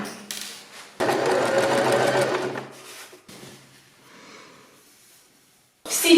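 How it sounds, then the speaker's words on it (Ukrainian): Domestic sewing machine stitching a seam in fabric cut from old shirts: a loud run of rapid stitching for about two seconds, shorter softer bursts and pauses after, then another burst starting at the end. "Я візуально її собі продовжую і шию."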